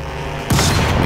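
A shotgun blast in the shooter game Crysis 2: one sudden loud boom cuts in partway through and then rings out in a broad, roaring tail, heard alone without speech.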